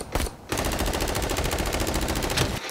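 Rapid machine-gun fire from an animated What If episode rattles in a dense, fast stream of loud, evenly spaced shots, preceded by a short burst and a brief gap.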